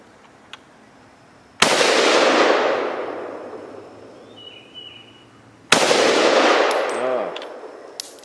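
Two loud gunshots, several seconds apart, are fired at a red cinder block outdoors, each a sharp crack trailed by a long rolling echo, with a faint metallic ring after the second.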